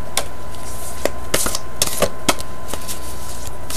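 Tarot cards are shuffled in a series of sharp, irregular riffling clicks and snaps scattered across a quiet background, close and fairly loud, with no talking.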